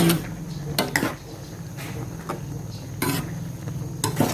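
A ladle stirs mushroom curry in a large pot, giving a few sharp metallic clinks and scrapes spaced irregularly over a quiet cooking background.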